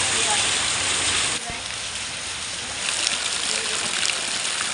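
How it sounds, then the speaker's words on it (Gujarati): Heavy monsoon rain pours down steadily at a village home, a dense continuous hiss close by with a slight dip partway through, voices faintly under the downpour. "કેટલો વરસાદ ચાલુ થઈ કા."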